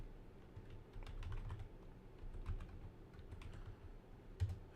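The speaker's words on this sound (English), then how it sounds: "I haven't physically typed code like this in a while" Code typed on a computer keyboard, a quiet, close patter of quick keystrokes in uneven bursts over a low background rumble, with no voices.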